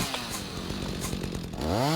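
A chainsaw cuts into a full-grown tree in the survival game Rising World, a steady buzzing engine drone held at close range with a rising whine as the saw revs near the end.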